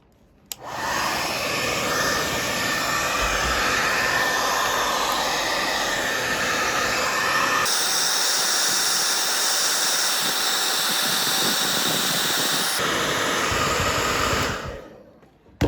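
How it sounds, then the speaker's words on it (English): A hair dryer blows with a steady loud whooshing hiss, switching between settings partway through before cutting off. "a standard hairdryer is exactly what you need"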